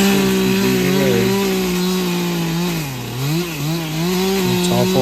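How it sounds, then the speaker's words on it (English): A Stihl 362 chainsaw cuts wood outdoors by a roadside, its engine droning loud and close with pitch dipping and rising as the chain bites. "That is a 362 Stihl saw."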